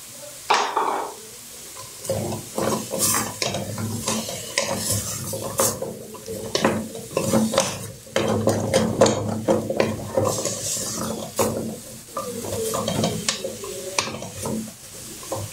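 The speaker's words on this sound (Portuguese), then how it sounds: "Deixa dar uma refogada aqui no alho e na cebola" Garlic, onion and diced raw carrot sautéing in a pan for Brazilian dobradinha, with a spoon scraping and clattering against the pan in steady irregular strokes over a soft sizzle, close and fairly loud, no talking.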